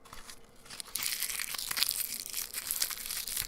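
A plastic wrapper crinkled and crushed close up, soft at first, then a steady, dense crackling that keeps going with no voice.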